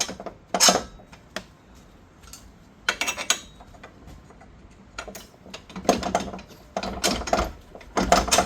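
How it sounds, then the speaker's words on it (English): Bolts being fitted during installation of Godspeed coilovers on a 2000-2003 fifth-generation Nissan Maxima: close, intermittent metallic clicks and ratcheting bursts separated by quiet pauses. "Okay, let's put the bolts in."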